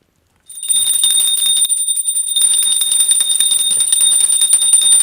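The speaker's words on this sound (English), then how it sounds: "please ring the bell as you do so" Ritual bell rung continuously during a worship ceremony with mantra chanting at a Maha Kalabhairava shrine: a bright, ringing metallic peal with sustained tones and rapid, steady strikes, loud and close, with no voices.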